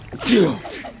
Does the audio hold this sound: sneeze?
yes